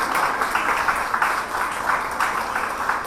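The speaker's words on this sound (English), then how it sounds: "Give them a big round of applause." A crowd applauds steadily at a college event, the clapping dense but fairly faint and sustained throughout.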